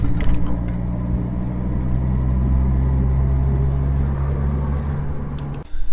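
The turbocharged M103 engine of a Mercedes 190E W201 hums as a low, steady drone while the car drives, with cabin rumble and no talking, then cuts off abruptly near the end.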